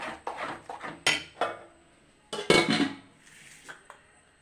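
Four or five crushed cardamom pods are stirred into a pot while making jackfruit ada. A spoon clinks and scrapes against the metal in scattered, uneven strokes, close by, with no voices.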